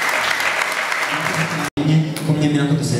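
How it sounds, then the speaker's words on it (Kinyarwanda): Applause for a newly married couple at a church wedding ceremony, a steady dense clapping of a crowd that breaks off briefly, then resumes just as full and near. "abasezeranya mubakomere amashyi mubashimire"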